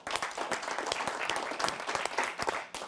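Audience applause welcoming Dr. Rajeev Raj, a poet from Etawah, at a kavi sammelan: dense, steady clapping from a crowd, sustained throughout at even loudness without a break.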